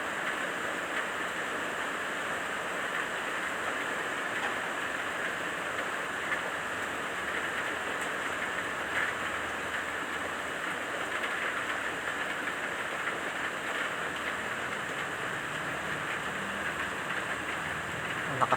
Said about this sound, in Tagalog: Lakas na ang ulan